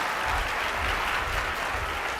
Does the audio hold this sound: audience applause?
yes